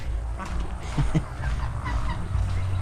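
Ducks crowd together at a busy market, giving a few short quacking calls over steady low background noise.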